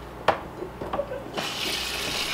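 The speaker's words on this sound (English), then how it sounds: "now what I'm going to do is I'm going to take some warm water" Warm water runs from a tap into a basin for washing wool, starting after a few clicks and knocks and then settling into a steady, close, hissing stream.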